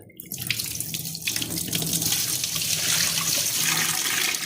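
A household tap runs with muddy water, a steady broadband gush that starts within the first second and keeps pouring loudly to the end.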